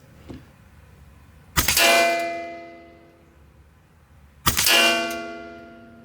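Two loud ringing metallic clangs about three seconds apart, each with a long decaying ring, as .22 caliber pellets from a PCP pistol strike a steel target.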